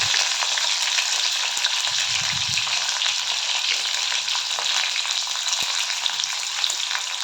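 Masala-stuffed bitter gourds fry in hot oil, a constant close sizzle with a few faint clinks and light knocks, no voices.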